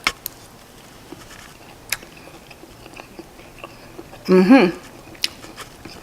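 Shrimp from a stir fry with scallops, asparagus and snow peas is bitten and chewed in one brief, close, crunchy burst after a quiet stretch with faint clicks.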